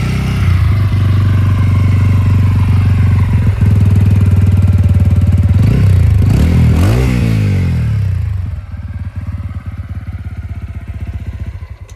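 Stock exhaust of a 2025 TVS Ronin motorcycle, idling loud and close with a throbbing beat, then revved in a few sharp blips before settling back to a lower, steady idle.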